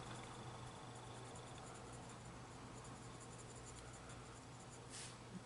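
A pencil colours in a kawaii tarot colouring book with a faint, steady scratchy rubbing under a constant low room hum, quiet and without speech.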